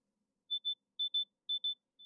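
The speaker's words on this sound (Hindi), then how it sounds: "तो एक बीप की जो साउंड है वो स्टार्ट हो जाएगी।" OnePlus Nord Buds 3 Pro earbuds beep through their find-my-earbuds feature, giving high, clean paired beeps in a regular rhythm, close and clear against silence.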